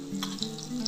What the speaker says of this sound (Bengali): এইভাবে বাকিগুলো আমি ভেজে তুলে নেব।